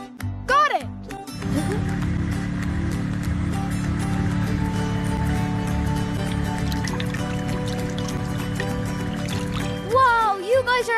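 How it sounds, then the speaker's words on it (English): Water pumped through a pipe in a children's cartoon gives a continuous gurgling, sloshing liquid rush for several seconds, with cartoon voices chirping briefly at the start and end. "Bobo, he can start pumping water"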